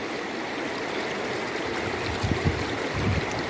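River water streams steadily along the bank of the Progo river, a continuous broad rush close by, with a few louder gurgling swells near the end and no talking.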